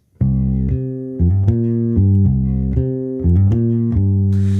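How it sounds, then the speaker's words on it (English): A bass guitar plays a simple repeating octave line on C, jumping between low and high notes in a steady rhythm, clean and close. "let's take a simple octave-based line that sounds like this"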